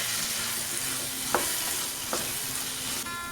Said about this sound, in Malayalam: ഇടയ്ക്കിങ്ങനെ ഇളക്കി കൊടുത്തിത് നന്നായിട്ടൊന്ന് ഡ്രൈ ആക്കി എടുക്കണം.